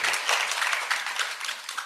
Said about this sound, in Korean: 다시 한번 박수 한번 더 드릴까요?